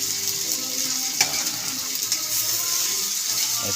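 Bitter melon (ampalaya) sautéing in a pan gives a steady, close frying sizzle with a few light clinks and stirring scrapes, and no one speaks.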